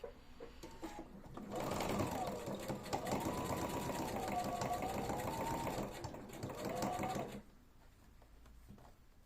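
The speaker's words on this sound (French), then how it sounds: "on va venir coudre au bord du zip" A domestic sewing machine stitches along the edge of a trouser fly zip, running steadily for about five seconds with a rapid, even whirring needle rhythm and brief pauses, close and alone.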